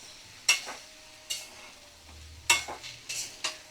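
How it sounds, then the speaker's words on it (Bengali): Bottle gourd and prawns are stirred together in a pan, a few quiet, close spatula scrapes in short bursts over a faint sizzle. "ভালো করে নাড়াচাড়া করে লাউ চিংড়ি মিশিয়ে নেব"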